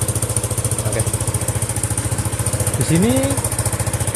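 Honda PCX 150 scooter engine running at a steady idle, a continuous low rhythmic throb close by, with a person talking over it and a brief rising whine near the end.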